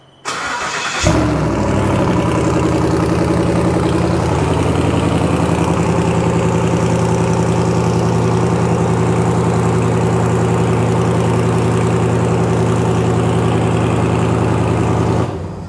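A 1968 Ford Mustang engine catches after a brief start and settles into a loud, steady, throbbing idle with a deep even rumble through loud exhaust, running close and unbroken to the end.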